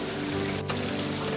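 Cartoon rain falls in a Hindi animated bird story, a steady, even hiss of downpour filling the whole moment without a break and with no voices.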